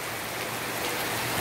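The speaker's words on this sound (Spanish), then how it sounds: "Hoy está lloviendo, Señor." Steady rain falls in Loma de Cabrera after months of drought, a dense, even hiss of close drops with no gaps and no voices.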